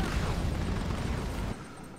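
A bombing run in Command and Conquer 3: Tiberium Wars brings a dense, rumbling wash of explosions that fills the short stretch, then drops abruptly to a quieter roar.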